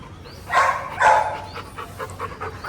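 Dogs panting and huffing during outdoor training, close and fairly loud, with two stronger breathy bursts near the start followed by a lighter rapid panting rhythm.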